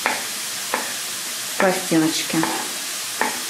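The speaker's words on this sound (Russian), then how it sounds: "И немножечко с вами лучок прожарим." Onions fry in a pan for chicken in cream sauce with vegetables, giving a steady, soft sizzling hiss throughout while a person talks over it in short bursts.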